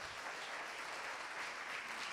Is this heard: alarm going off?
no